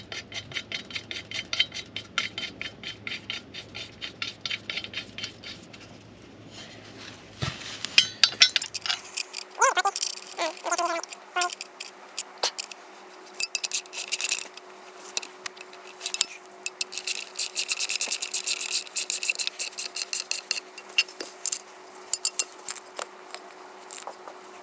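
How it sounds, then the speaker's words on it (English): Metal bolts clinking and being threaded back into a transmission mount on a Jaguar XF, a run of sharp ratcheting clicks and small metallic taps close by in a garage, with no talking. "Put the bolts back in."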